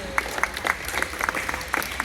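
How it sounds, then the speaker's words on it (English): Audience applause for volunteers at a dolphin presentation at the Indianapolis Zoo, a steady patter of many hands clapping with sharper individual claps standing out, moderately loud and continuous throughout. "Let's give our volunteers a round of applause."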